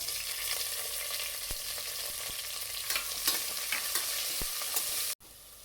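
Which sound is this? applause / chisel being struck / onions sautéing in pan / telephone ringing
onions sautéing in pan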